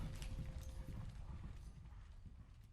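A horse's hooves clip-clopping at speed as it runs off, dense rapid thuds close by with a faint whinny and some background ambience, no talking over it.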